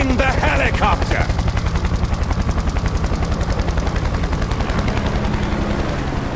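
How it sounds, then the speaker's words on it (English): A helicopter flies in the Far Cry 4 video game, its rapid, rhythmic rotor chop loud and steady throughout, with a voice briefly heard near the start. "I'm keeping the helicopter!"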